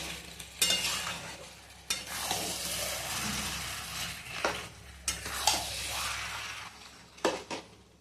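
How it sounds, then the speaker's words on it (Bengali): Mutton for a Bengali-style curry with potatoes sizzles in a pan as it is stirred and fried, a steady close sizzle broken by repeated scrapes and clinks of a spoon against the pan, with no talking. "এরপর আমি মাংসটা আমার 40 মিনিট 45 মিনিট কষতে হবে।"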